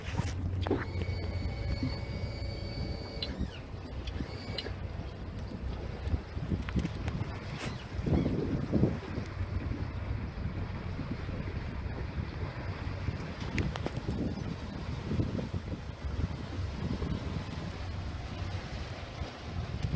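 A boat's outboard motor runs steadily through shallow water, a constant low drone with wind buffeting the microphone and water noise, no voices.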